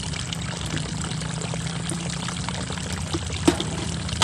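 Herbicide being poured into a 16-liter knapsack sprayer in a rice paddy, a steady close-up stream of liquid with a low hum beneath and one brief knock near the end.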